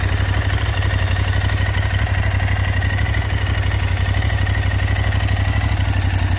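Aprilia Tuareg 660 parallel-twin motorcycle engine running steadily, a loud, close, continuous throbbing hum with a rapid even pulse and slight mechanical clatter, with no speech over it.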